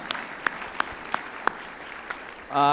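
At the 2011 MDC Alumni Hall of Fame ceremony, a few scattered hand claps ring out for the sponsors, about six sharp, isolated smacks spaced unevenly, before a louder voice or tone breaks in at the end.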